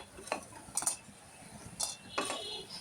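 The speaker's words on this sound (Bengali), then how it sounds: "বড়িগুলো প্রথমে ভেজে তুলে নিচ্ছি" A metal spoon clinks against a pan several times as fried bori, thin lentil dumplings, are lifted out of hot oil. The clinks come in short, separate bursts, close by, with no one talking.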